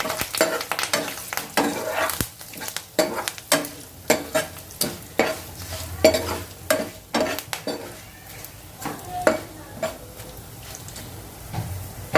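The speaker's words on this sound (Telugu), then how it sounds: "వేసుకుని బాగా కలుపుకుంటున్నాను." A quarter spoon of asafoetida goes into a pan of hot oil for a healthy bitter gourd dish and is stirred well, with a steady sizzle under repeated scraping strokes of a spoon against the pan, close and moderately loud.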